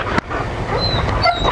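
A dog gives faint, thin whimpers and high whines over a steady, noisy background, close by and without speech.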